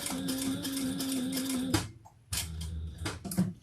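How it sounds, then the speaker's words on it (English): A home sewing machine stitches fabric for a dog training treat bag with a steady mechanical whir, pauses briefly midway, then resumes running close to the microphone with a few clicks as it starts again. "All right, so let's sew this together."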